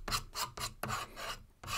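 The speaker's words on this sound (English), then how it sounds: "so I'm just scraping." Scraper dragged across watercolour paint on paper: repeated short, rough rasping strokes in a steady back-and-forth rhythm, very close and fairly loud, with no voice.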